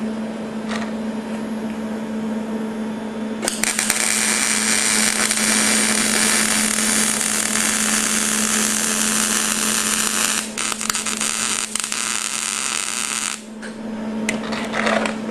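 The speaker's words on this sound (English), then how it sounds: "So I'll weld around the notch too." Steel tank being welded around a notch cut in it, a loud steady crackling arc that starts abruptly and holds for about ten seconds before cutting out, with no talking.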